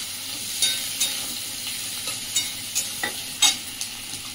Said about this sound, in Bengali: পেঁয়াজটাও দিয়ে দিলাম। পেঁয়াজটা দেখে নেড়ে নিচ্ছি